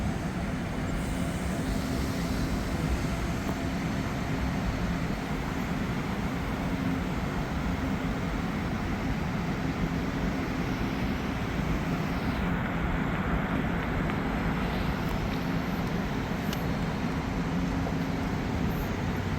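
An Amtrak Keystone Corridor train pulls into Metropark station on the Northeast Corridor during the evening rush, a steady, loud broadband rail rumble that holds evenly throughout, with no talk over it.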